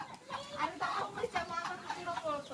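Farm chickens cluck softly in a series of short, uneven calls, faint and fairly close.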